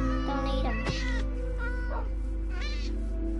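A cat meowing in a video game, a few loud, drawn-out meows in close succession with a slightly wailing, caterwaul-like tone, heard clearly with no talk over them.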